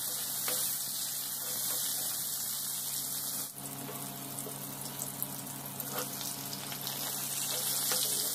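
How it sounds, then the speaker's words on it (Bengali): Fish rubbed with salt, turmeric and chili powder frying in oil, a steady close sizzle with crackling spatters running throughout, briefly dipping in the middle with some faint water and stirring noises. "এখন মাছগুলো ফ্রাই করব নুন হলুদ আর একটু লঙ্কা পাউডার দিয়ে ভালো করে মেখে মাছগুলো ফ্রাই করব।"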